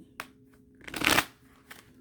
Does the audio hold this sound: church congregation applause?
no